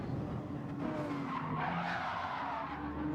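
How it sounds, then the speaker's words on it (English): GT3 race cars at the Nürburgring Nordschleife with a continuous tyre squeal and skid, engines roaring steadily underneath at moderate distance throughout. "I thought I heard tyres squealing."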